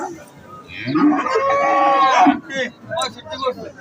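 A Holstein Friesian bull at a cattle market gives one loud, drawn-out moo up close, followed by a few short bursts of nearby voices.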